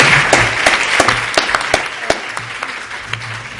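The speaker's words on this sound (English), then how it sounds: "Let's give him a round of applause" Applause from a lecture audience welcoming a speaker at a university free speech debate, with sharp individual claps standing out over a steady wash of clapping from a moderately sized crowd.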